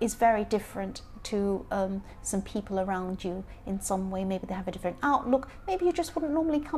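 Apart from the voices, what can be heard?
No everyday noises stand out.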